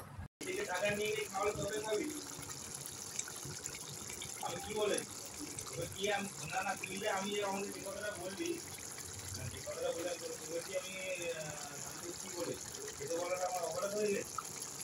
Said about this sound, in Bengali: এই পর্যায়ে আমি দিয়ে দিলাম গরম জল